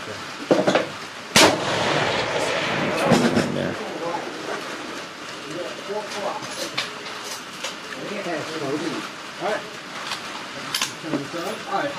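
A .308 rifle fires at a long-range shooting session, with a few sharp, loud reports that cut off quickly, the strongest early on, while people talk throughout.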